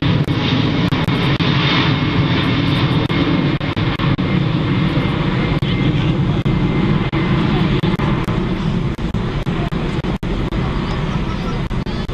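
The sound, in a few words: aircraft engine power during air show display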